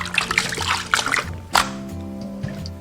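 Cuttlefish being rinsed under clean running water in a kitchen, a steady trickle and splash with brief louder splatters as the pieces are handled, fairly close.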